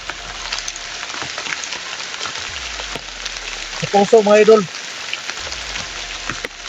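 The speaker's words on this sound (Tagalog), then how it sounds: "So ngayon sobrang lakas talaga ng ulan." Heavy rain pours steadily outdoors during a search in the countryside, a dense constant hiss throughout, with a brief louder patter or splash burst in the middle and someone talking faintly underneath.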